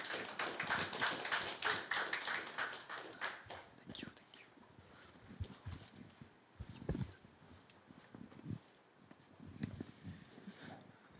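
Conference audience applause, heard as a dense burst of clapping that thins into scattered, separate claps and taps. After the first few seconds it fades to sparse, quieter hits.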